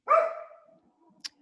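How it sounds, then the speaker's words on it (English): A Yorkshire terrier gives a single sharp bark indoors, clear and alone in a quiet room, followed by a brief faint click. "my Yorkie, barking in there."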